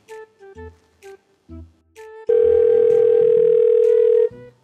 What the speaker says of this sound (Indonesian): Aku telepon Mita aja lah